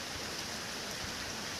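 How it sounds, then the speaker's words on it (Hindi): Steady, heavy rain pours down in a dense, unbroken hiss, fairly faint overall and continuous throughout with no talk. "बारिश बहुत ज़्यादा हो रही है"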